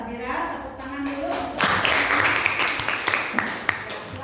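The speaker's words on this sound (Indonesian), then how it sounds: "Tepuk tangan dulu." A classroom group bursts into dense applause right after a short spoken prompt from a teacher. The clapping is steady and fairly loud, with a few sharper individual claps standing out near the end.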